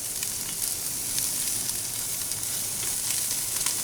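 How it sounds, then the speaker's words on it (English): Steaks and asparagus sizzle on a Member's Mark charcoal kettle grill, a steady, close hissing crackle that continues evenly throughout with no talking. "I put a little bit of asparagus on there. And we'll throw these steaks on."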